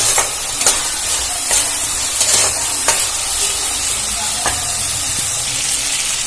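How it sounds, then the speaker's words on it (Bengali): Turmeric sautéing in a hot pan for a Bengali-style chicken curry, a loud continuous sizzle and hiss close by, broken by periodic scraping clatters as the spatula stirs. "হলুদটা দিয়ে আবারও ভালো করে কষিয়ে নেব"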